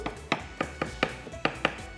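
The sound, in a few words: knife cutting bamboo shoot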